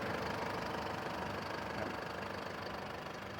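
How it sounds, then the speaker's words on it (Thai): A white 3.0-litre Isuzu D-Max Hi-Lander double-cab diesel pickup with a five-speed automatic idles steadily, a low even knocking rumble heard close and alone. "ครับเครื่องยนต์สวยเดิมโรงงานเดินเรียบ"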